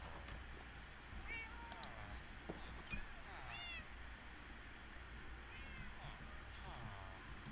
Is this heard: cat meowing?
yes